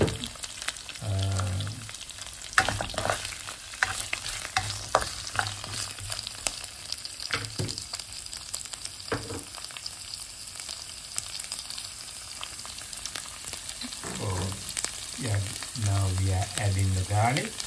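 Onion and green chili fry in hot oil for an eel curry while being stirred, giving a dense continuous sizzle broken by scraping utensil strokes, with a few short bursts of talk near the start and end.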